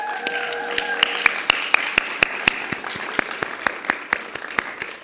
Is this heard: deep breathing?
no